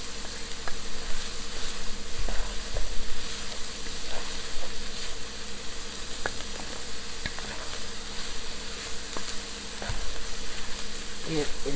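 Onions cooking down in butter in a pan, a continuous close crackling sizzle with light stirring scrapes and an occasional clink, no voices over it.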